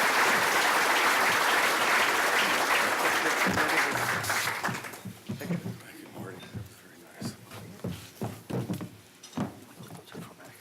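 Audience applause at a regional chamber annual meeting, dense loud clapping for about five seconds that fades into a voice speaking with a few leftover claps.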